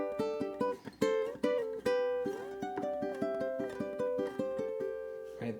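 A ukulele plays the opening bars of a cute Disney-inspired song, a lilting melody of plucked notes over strummed chords. The picking is close and clear, with no voice.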